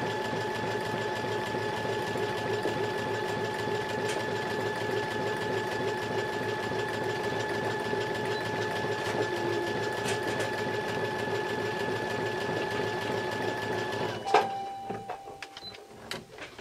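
Sewing machine stitching an appliqué, a close, steady whirring hum with a fast regular needle rhythm running unbroken for about fourteen seconds, then stopping with a clunk and a few quieter handling noises.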